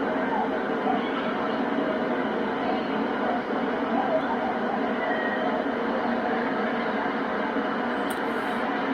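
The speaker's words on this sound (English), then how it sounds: "Looks like a Seaboard passenger train there." A steady, continuous rumble of a model Seaboard passenger train running on its track at a train show, with a faint clatter throughout and no pauses.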